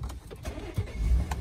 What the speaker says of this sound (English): Crank right up.